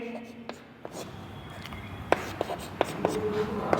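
Handwritten notes, heard as faint pen-on-paper scratches and taps coming in short, irregular strokes close by, with quiet whispering and low background noise.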